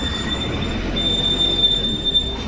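A train runs past close to a suburban station, giving a steady, loud rolling rumble with a sustained high wheel squeal over it throughout.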